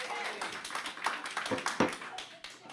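Audience applause in a committee meeting room, a scattered round of clapping from a small crowd at moderate distance, uneven and fading toward the end; no talking.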